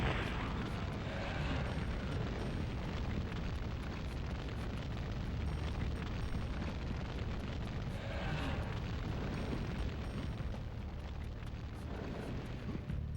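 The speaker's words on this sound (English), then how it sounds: "there's a lot of things exploding in this level" Explosions rumble and burst without pause through a level of the game Nightmare Creatures on the N64, a dense, loud, continuous roar with swells of heavier blasts and no voices.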